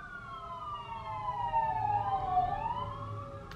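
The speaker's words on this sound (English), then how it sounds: "Sirens, of course." Emergency vehicle sirens wail at a distance, rising and falling tones crossing each other over a low street rumble, faint but clear, with no talk.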